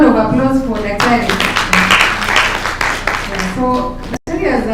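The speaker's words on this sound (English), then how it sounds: "A better round of applause for Daktari." Audience applause breaks out at a live climate change reporting pre-training workshop, a dense wash of claps lasting several seconds, briefly cut off near the end, with a speaking voice running over it.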